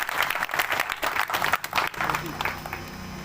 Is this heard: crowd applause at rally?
yes